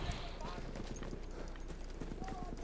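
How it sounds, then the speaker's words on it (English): Horse hooves clopping at a gallop in the Battlefield 1 video game, a steady rhythmic beat running under battle noise and shouted voices throughout. "Horse in front! Horse in front!"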